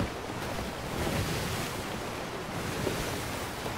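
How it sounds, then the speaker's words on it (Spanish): Rough, choppy sea waves in the pirate video game Sea of Thieves, a constant soft wash of surf and wind, fairly faint and with no talk. "¿Cómo se ha picado la mar,"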